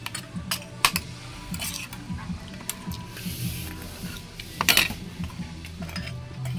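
Spoons and forks clink and scrape against plates during a family meal, with irregular close metallic taps and a brief cluster of louder clatter partway through.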